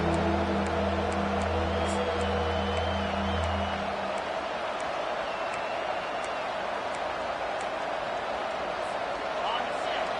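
A home crowd at an Alabama football game roars steadily through a third-down defensive stand, a broad sustained wash of cheering with scattered whistles, while a commentator's voice runs over the first few seconds.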